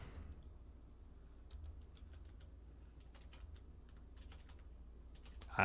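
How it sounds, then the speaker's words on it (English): Soft, quick keystrokes on a computer keyboard in scattered bursts, quiet and close against a low steady hum. "What is wrong with my typing here?"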